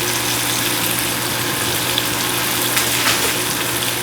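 Pork chops searing in a hot pan with room around each one, giving a steady, close sizzle and frying hiss with a low background hum throughout.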